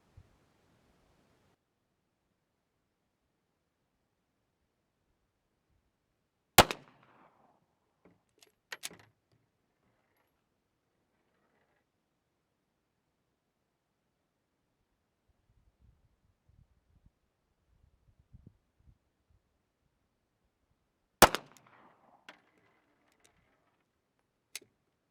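Two sharp, loud shots from a 9mm Walther pistol ring out about fifteen seconds apart, each a sudden crack followed by a brief echo, with faint handling rustles and clicks in the quiet between them.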